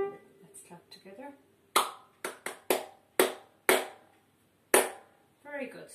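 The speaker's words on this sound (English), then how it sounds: "Let's clap together." Hands clap back a short rhythm of about seven sharp, close claps with uneven spacing, each ringing briefly in a room, following a few soft tones at the start and some faint sound at the end.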